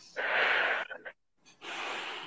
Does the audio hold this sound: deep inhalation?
yes